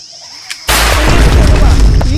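A gun goes off in a Bhojpuri comedy skit, one sudden loud boom after a near-silent moment that leaves a dense roaring wash lasting to the end of the clip.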